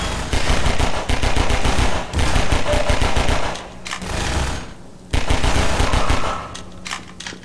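Rapid bursts of machine gun fire in Half-Life 2, loud and close, rattling in long sustained volleys with short breaks between them.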